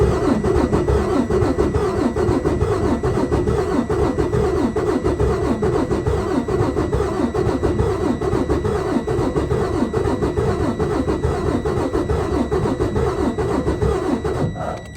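A Detroit DD15 diesel engine with a valve problem cranks and runs, a loud, steady, rough mechanical clatter with an uneven pulsing rhythm that continues without pause before cutting off at the end.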